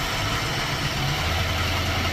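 A Ford Thunderbird engine with a bad accelerator pump runs close by, a rough low idle with a wavering throaty rumble that dips and shifts in pitch, loud and alone.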